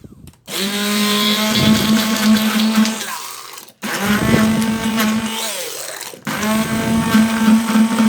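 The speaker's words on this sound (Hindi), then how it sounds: "अब हम हैंड ब्लेंडर की मदद से इसे अच्छे से ब्लेंड कर देंगे।" A hand blender whirs loudly and steadily through strawberries in three long bursts with brief pauses between, its motor pitch shifting as it churns.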